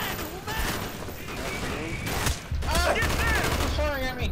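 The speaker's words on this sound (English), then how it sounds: "He's firing at me." Bursts of gunfire in the Call of Duty Black Ops video game, rapid rattling shots and blasts over a dense battle soundscape, loud and near, with voices and game noise mixed in.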